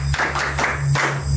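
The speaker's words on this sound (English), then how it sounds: "Clap hands for her." Students in a dimly lit classroom clap their hands together, a short burst of a few loose claps over a steady low hum.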